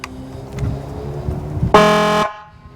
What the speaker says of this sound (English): Or the air horn.